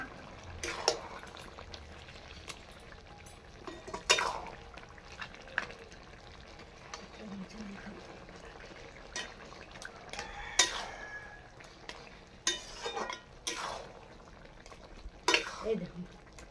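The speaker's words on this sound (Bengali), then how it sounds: "এই পর্যায়ে আমি মাছগুলো দিয়ে দিচ্ছি।" Fried fish heads going into a simmering pumpkin and Malabar spinach curry for a Bengali chhechra, with scattered stirring scrapes, clinks of a utensil against the pot and soft sizzling, moderately close and without talk.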